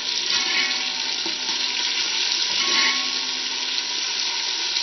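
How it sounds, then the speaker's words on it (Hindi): Onions frying in a pot until lightly browned, a continuous even sizzle, close and fairly loud, with no pauses. "प्याज को हमने लाइट सा ब्राउन करना है।"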